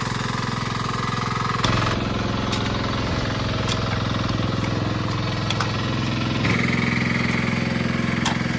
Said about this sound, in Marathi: आता आधुनिक युग झाला डायरेक्ट ट्रॅक्टर ट्रॅक्टरने काम लवकर होता